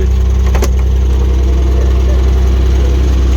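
A 1954 GAZ M-20 Pobeda fitted with a 2.9-litre Ford engine cranks over, catching with a brief burst, then settles into a steady, loud, close idle that runs on unbroken.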